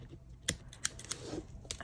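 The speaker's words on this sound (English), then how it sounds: "I'm just trying to get my scissors in there so I can snip a little bit of the lace away" Scissors snip away bits of lace on a handmade butterfly journal cover, giving a few sharp, close metallic clicks spread across a quiet crafting table.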